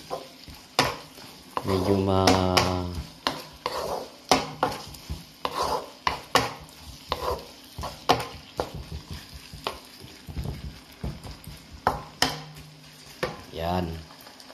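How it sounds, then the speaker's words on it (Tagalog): Menudo frying in a pan is stirred with a metal utensil, giving repeated clinks and scrapes over a steady sizzle, close and fairly loud, with a brief spoken word. "Haluin lang natin."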